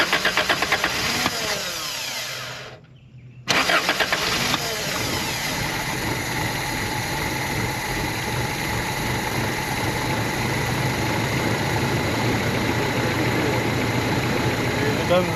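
A Toyota 22R four-cylinder engine in a pickup truck cranks, drops out briefly, then catches and settles into a steady, continuous idle that carries on close and loud to the end.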